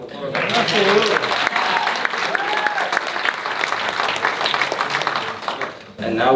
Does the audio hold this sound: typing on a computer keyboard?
no